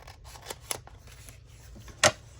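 Scissors cut material down for a handmade journal, making a few soft snips and then one sharp, louder cut near the end, close and otherwise quiet.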